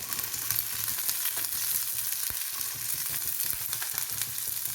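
Shallots and slit green chillies fry in hot oil for a fish curry, giving a steady close sizzle with light crackles and no talk.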